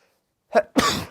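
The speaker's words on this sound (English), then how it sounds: "I gotta sneeze and I apologize." A single sharp sneeze sounds up close, a short intake of breath followed by an explosive burst, after a moment of silence.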